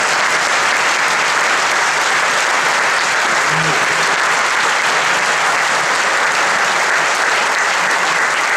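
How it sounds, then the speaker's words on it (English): A conservatory performance audience claps in sustained, dense, loud applause that holds evenly without letup. "will you guys join me in giving them a round of applause?"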